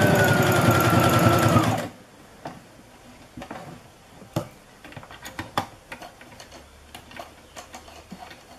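A sewing machine stitches a fabric tube for Japanese geta clog straps, a loud close whirring run of about two seconds that stops abruptly, followed by quiet clicks and handling of the fabric.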